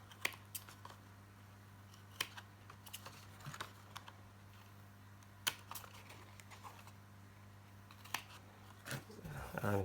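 Sharp, scattered snips of scissors trimming the corners off paper card tabs, crisp clicks spread irregularly over a steady low hum, with a rustle of card handling at the end.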